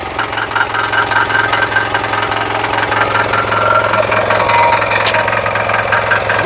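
A Kama power tiller engine runs steadily and loudly close by, with a continuous knocking chug and a mid-pitched mechanical drone that never lets up.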